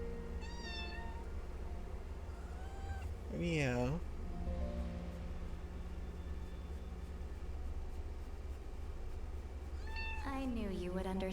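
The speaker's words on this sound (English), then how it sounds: "Cat's here to sing us off." A cat meows in drawn-out, wavering cries, one near the middle and another near the end, over a steady low hum with a person talking briefly.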